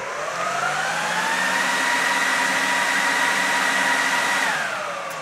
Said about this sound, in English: that's the sound of a 1U server.